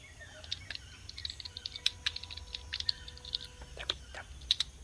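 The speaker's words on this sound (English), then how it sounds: "How we missed the typing" Quiet tapping on a computer keyboard, irregular keystrokes clicking in short bursts at close range against a faint room hum, with soft bird chirps in the background.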